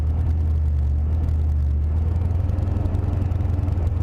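Steady low rumble of a Mercury Cougar's engine while driving with a window open, smooth and continuous, close and fairly loud with road and wind hiss layered over the drone.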